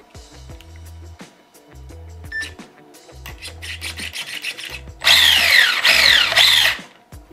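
A power drill drives screws into a carbon fibre chassis kit on a WLtoys 144001 RC car. Short whirring bursts start and stop, ending in a loud, sustained, close-up buzz that strains as the screws seat.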